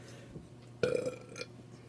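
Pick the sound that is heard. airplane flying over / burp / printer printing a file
burp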